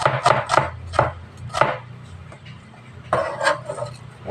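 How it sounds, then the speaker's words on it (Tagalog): A knife chops shrimp curry ingredients on a board in a steady series of crisp, close thuds, about nine strokes in two bursts separated by a short pause, with no speech. "So, chop, chop, chop."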